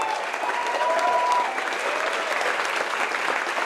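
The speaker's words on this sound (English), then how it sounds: "Round of applause." Steady applause from an audience at a startup pitch night panel event, dense and sustained clapping at an even level throughout, with a few faint voices mixed in.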